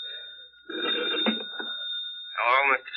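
A telephone ringing in a 1945 radio drama, a continuous electric bell tone that persists throughout while voices speak over it.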